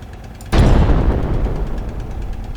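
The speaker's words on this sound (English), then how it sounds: "Oh, that was a pretty big explosion." A big explosion in the tank-building game Sprocket bursts in suddenly, loud and close, after a quiet start, then rumbles and fades slowly over the next two seconds.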